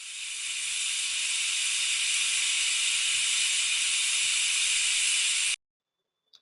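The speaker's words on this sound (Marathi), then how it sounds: "साधारणपणे 4 ते 5 कुकरच्या शिट्या मी इथे घेणार आहे" A pressure cooker with mutton soup inside lets out one long, loud hissing whistle of steam that rises and holds steady for over five seconds, then cuts off abruptly into near silence with a small click.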